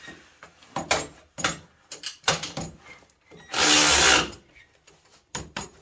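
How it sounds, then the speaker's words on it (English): A small ratchet tightening a bolt on a seat during a T-Rex repair, giving a series of short clicking and cranking bursts, with one longer louder grinding stretch in the middle, close by and with no voices. "It cranks right down nice and tight. I'm using a little ratchet here."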